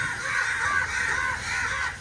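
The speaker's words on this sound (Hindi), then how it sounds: "और उधर देखें कौवे लाड़ रहे हैं, बहुत सारे आए हुए हैं" A crowd of crows gathered outdoors at a village feast: harsh overlapping caws from many birds, continuous and fairly close, filling the scene without talk.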